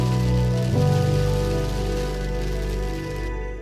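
Heavy rain hitting a surface outdoors near a field, a steady close wash of drops with a harsh, tonal rattling edge, no voices.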